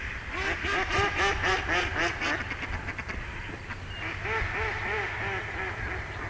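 Repeated quacking from live ducks, a run of rapid nasal calls, a short lull, then another series of quacks at moderate distance.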